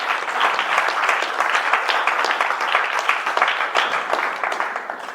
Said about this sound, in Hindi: ताली बजाएं अभिनव मौर्य के लिए